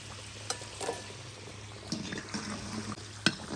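Potatoes fry in oil in a kazan with a soft, steady sizzle, broken by a few scraping stirs and light clinks of a utensil against the pot.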